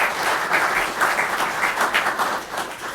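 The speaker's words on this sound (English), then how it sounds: "Let's give him a round of applause," Dense, sustained applause from an audience at a fire and EMS awards ceremony, loud and even throughout the full three seconds.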